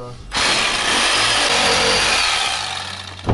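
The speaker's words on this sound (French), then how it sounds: "je suis obligé de faire juste avec la scie sabre" A reciprocating saw cuts along a wooden beam in a straw house, a loud continuous buzzing rasp that starts abruptly and runs steadily for about three seconds before stopping with a final clunk.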